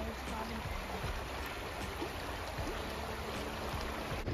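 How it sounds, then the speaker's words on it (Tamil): Stream water flows steadily at a calm outdoor spot near Anaikatti, a soft continuous trickling and rushing that runs through the whole stretch at moderate, even loudness. "இந்த மாதிரி ஒரு இடத்துல அமைதியாக தண்ணி சத்தத்தை மட்டும் கேட்டுட்டு"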